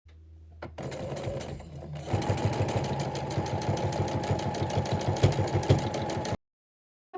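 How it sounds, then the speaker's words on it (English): A home sewing machine stitches a fabric mason jar cozy, starting with a slow hum and then running fast with a rapid needle rhythm before stopping abruptly, close and alone. "so now I'm going to sew from here up to here"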